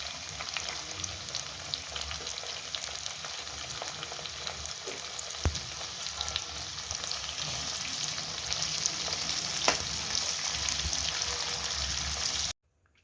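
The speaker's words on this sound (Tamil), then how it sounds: "டைஸ் பண்ணி வச்சுருக்க ஆனியன்ஸ் போட்டுக்கலாம்." Diced onions sauté for chilli paneer in a pan, producing a steady close sizzle and frying crackle with occasional stirring, and no voices, before the sound cuts off at the end.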